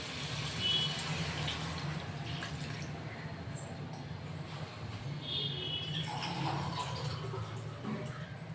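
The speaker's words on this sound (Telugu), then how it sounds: "ఇప్పుడు దీంట్లో నేను నీళ్ళు పోసేస్తున్నాను." Water is poured into a pan of Andhra-style mango fish curry, giving a soft, steady splashing and trickling that stays faint and close.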